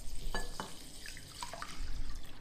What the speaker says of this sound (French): de l'eau du robinet, froide